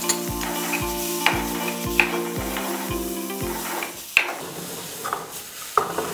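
Tomato, garlic and spices fry in a pan with a steady sizzle, while a utensil scrapes and stirs in a regular rhythm, with a few sharp clinks against the pan, close and loud.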